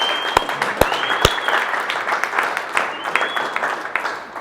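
Office team applauding an MVP colleague at an all-team update, steady clapping with a few sharp close claps standing out, brief whistles or cheers over the top, lasting throughout.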